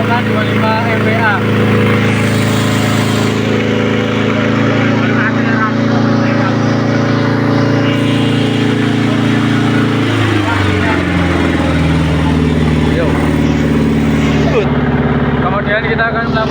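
A car engine with electronic fuel injection runs steadily at 3000 rpm during a fuel system test, a constant loud droning hum with a slight drop in pitch partway through, and voices talking over it.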